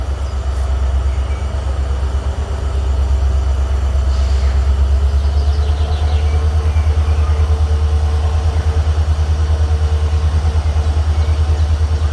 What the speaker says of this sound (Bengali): ট্রেনের হুইসেল আমরা শুনতে পাচ্ছি